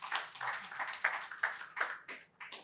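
A round of applause for a guest at a Nigerian event: a smallish crowd claps in bursts, moderately close and fading in and out, with little talk over it.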